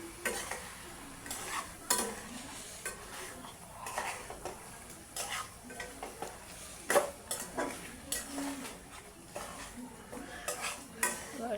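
Curry frying in a pan while being stirred, with a low continuous sizzle under frequent scrapes and clinks of a utensil against the pan in an irregular rhythm, close and fairly quiet.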